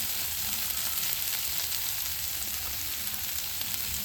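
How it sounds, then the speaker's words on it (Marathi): Fish frying in oil in a pan, a dense steady sizzle that stays loud and constant throughout with no talking. "हे आता मासे टाकून घेतो."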